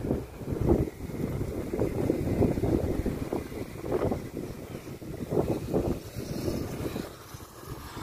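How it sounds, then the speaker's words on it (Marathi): Stormy wind blows outside a hotel at sunset, buffeting the microphone in loud, uneven gusts with low rumbling, steady throughout and without speech. "हा वारा सुटला"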